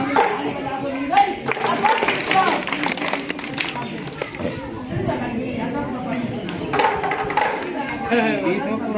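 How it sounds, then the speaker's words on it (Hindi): Village street crowd at a madari performance giving scattered clapping mixed with chatter and a voice talking over them, moderately close and uneven. "ताली बजा दो"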